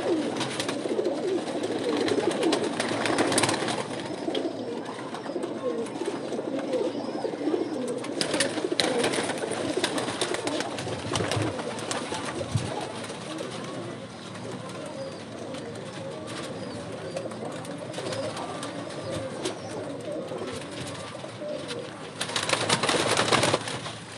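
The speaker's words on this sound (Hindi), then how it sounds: "ये भी दोस्तों क्रीज में है कबूतर।" Domestic pigeons kept for flying coo steadily in a loft, with overlapping low throaty calls throughout, moderately close and fairly loud, and a few rustles and brief chirps mixed in.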